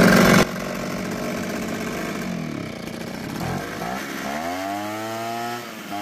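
Small gasoline engine on a Ryobi leaf blower running on choke starts with a loud burst, then idles and revs unevenly before winding down, its pitch sliding near the end; no talk.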